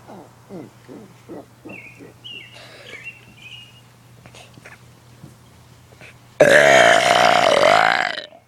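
A long, loud burp erupts suddenly after a stretch of quieter sounds, rumbling and bubbling for about two seconds before tapering off.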